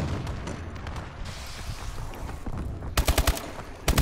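Automatic gunfire in a shooting video game, loud rapid bursts near the end after a noisy stretch of game sound, with no voices over the shots.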